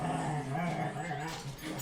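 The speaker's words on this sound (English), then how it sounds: "Okay, so dogs in the background, they are just very vocal" Dogs playing in the background, growling, yipping and whimpering in a busy, continuous jumble at moderate distance, with no talk over it.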